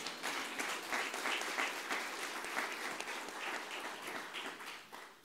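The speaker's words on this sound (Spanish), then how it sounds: "¿Cuánto le dan un aplauso a Jesús?" Steady, full applause from a church congregation, dense clapping sustained throughout and heard alone, slightly distant.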